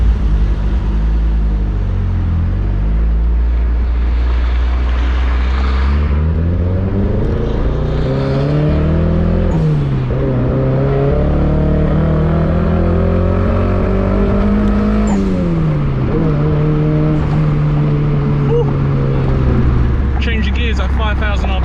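A 20-year-old Mitsubishi EVO on a road in Thailand pulls hard from inside the cabin, its engine note climbing steadily through the gears at high RPM, with brief drops at each shift. A person talks over the continuous loud drone.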